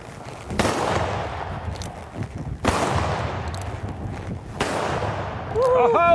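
Three loud, sharp gunshots ring out at roughly two-second intervals during mounted shooting on horseback at a lope, each crack trailing into a decaying echo, followed by brief voices at the end.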